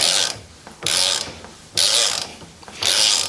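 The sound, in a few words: taking the back off an Ohlins TTX 36 shock with a wrench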